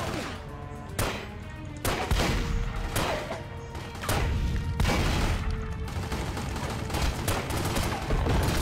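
Sustained gunfire in The Godfather video game, a dense fusillade of rapid shots with heavy crashes and booms layered over continuous loud action noise throughout.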